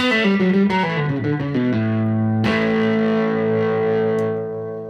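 An electric guitar played through a compressor for modern country tone, with a quick run of twangy licks and bends that ends on a long sustained note, sounding loud, close, even and smooth.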